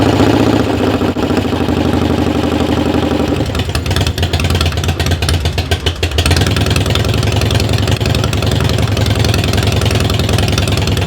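A rebuilt Harley-Davidson motorcycle engine runs roughly and unevenly, a loud close steady chugging with a stumbling patch midway, no voices over it.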